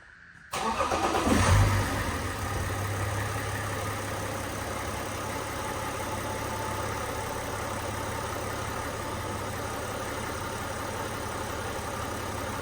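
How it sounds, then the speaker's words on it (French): A car engine cranks and catches in a garage, then settles into a steady, even idle that continues for several seconds with no talking. "On va démarrer la voiture et on va voir si tout est bon."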